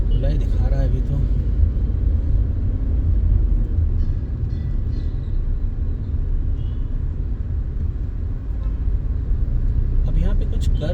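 Slowed road traffic in Whitefield, Bangalore, with a Toyota Innova partly blocking the road: a constant low engine rumble of vehicles nearby, with someone talking over it.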